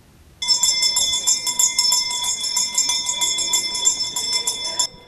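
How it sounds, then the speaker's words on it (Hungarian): An electric school bell at the Eötvös József gimnázium rings continuously for about four and a half seconds, a bright, steady metallic clang with rapid strikes, loud and close, marking the farewell of graduating students. "Az utolsó csengőszó hallattán"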